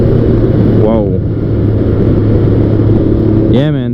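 Can-Am Ryker three-wheeled motorcycle with a 900cc engine droning loudly and steadily close by, pitch sweeping up in two short revving bursts as it accelerates, with someone talking over the ride.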